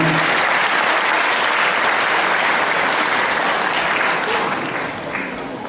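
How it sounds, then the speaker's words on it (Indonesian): A seated audience at a talk bursts into sustained applause, dense clapping that holds steady for several seconds before beginning to fade near the end. "tepuk tangan dulu biasanya"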